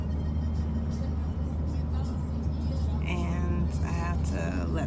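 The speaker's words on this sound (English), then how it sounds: "they have taxi service right outside the beach. And I'm riding back to my hostel" A taxi ride back to a hostel near the beach in Tulum, Mexico: a low, steady car engine rumble and road noise inside the cab, with a voice talking over it toward the end.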